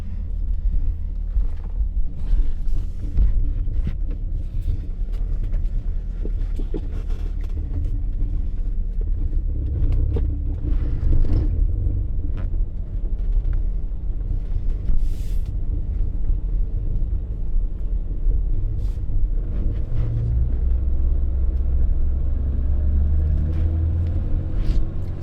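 A BMW E30 with an M20 engine being driven, with a steady loud engine drone and road rumble throughout, heard from inside the car.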